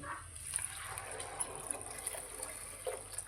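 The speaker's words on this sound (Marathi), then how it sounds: "आता ह्यात मी गरम पाणी घालते" Hot water is poured into a pan of green peas pulao rice, giving a steady, soft hiss and gush of liquid that runs evenly throughout at low level with no talking.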